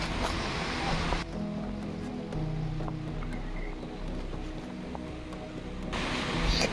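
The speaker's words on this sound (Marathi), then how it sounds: "पुन्हा पाण्याचा आवाज येतोय." Steady rushing water of a forest stream near Manikgad fort, flowing nearby, fills the clip as a continuous broadband wash with a few faint knocks.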